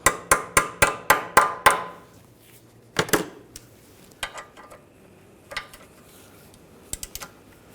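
Hammer blows on the ball joint stud of a 2009-2010 BMW 535i xDrive front suspension: six quick, sharp metallic taps in a row, then a few scattered knocks and clinks, close and loud, with no talking.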